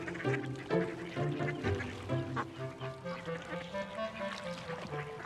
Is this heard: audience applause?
no